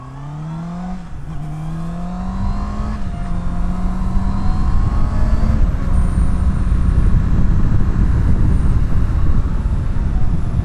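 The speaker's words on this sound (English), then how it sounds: "We're just seeing how the bike feels and what it's like to ride." A Honda CB650R motorcycle engine on a ride rises through the revs close up, its tone climbing and shifting through gears before settling into a loud, steady roar with wind rush.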